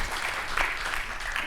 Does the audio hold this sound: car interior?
no